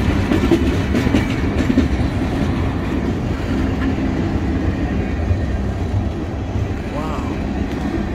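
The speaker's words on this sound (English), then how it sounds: "I really can't believe how long this train has one engine." A long BNSF freight train pulled by a single EMD SD40-2 locomotive rumbles steadily past nearby in Galesburg, Illinois, wheels clattering on the rails in a continuous loud roar.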